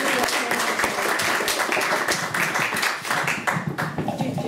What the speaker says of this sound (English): applaud right now for Patty Templeton